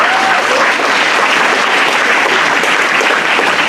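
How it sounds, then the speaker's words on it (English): Loud, close applause from the audience at a school board of education meeting honoring athletes, a thick continuous roar of many hands clapping at steady intensity throughout, with no speech. "One more round of applause."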